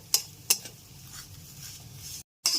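Vermicelli fries in a pan over a low gas flame while a spoon keeps stirring it, with a few sharp scraping strokes over a soft, steady sizzle and a brief pause near the end.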